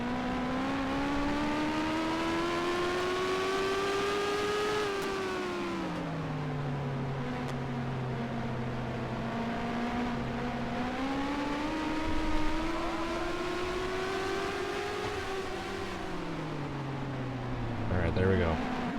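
NASCAR Racing 2003 race car, a sustained engine drone rising and falling in pitch as it speeds up and slows through turns, steady and moderately loud, with talk over it.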